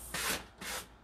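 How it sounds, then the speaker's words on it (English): Two slow hand strokes of sandpaper rub along a wooden table edge during decoupage trimming, soft and close with a short pause between the passes. "And so that's why I always sand down and away when I'm trimming my pieces."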